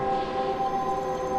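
Eerie, sustained wailing cries of creatures in Dark Souls' Duke's Archives, a steady droning tone with layered harmonics, moderately loud and continuous without breaks.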